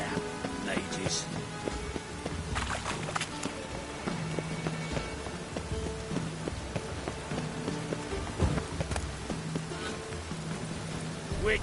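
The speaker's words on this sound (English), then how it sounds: "Rain again." Steady rain patters over the landscape in the video game The Witcher 3, a constant hiss of drops with occasional footsteps and small clatters, while a voice speaks over it.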